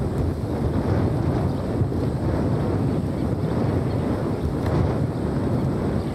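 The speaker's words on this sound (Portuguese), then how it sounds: "Tá ventando tanto que tá dando o que ver pra segurar a câmera" Strong wind buffets the microphone outdoors near the water with a boat below, a steady loud roar of gusts filling the whole stretch with no speech.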